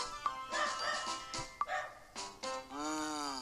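Voices transformed into chihuahuas yap and bark repeatedly in the video game Obey Me! Nightbringer, a quick run of sharp, high yips ending in a longer whining bark.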